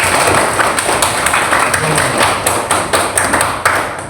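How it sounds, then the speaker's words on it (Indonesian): A classroom of students claps for a classmate: steady, dense hand clapping with sharp individual claps standing out, lasting throughout. "tepuk tangan untuk Zahda"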